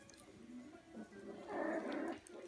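Toy and teacup puppies about four and a half weeks old whimper and whine softly, with a brief louder yelping burst in the middle of a faint, short stretch.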